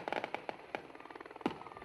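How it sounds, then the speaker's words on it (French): Fireworks crackle at a crowd celebration outside a prison, a quick irregular string of faint pops and snaps at a distance, with one louder bang near the end. "Feux d'artifice ou encore des cris de joie"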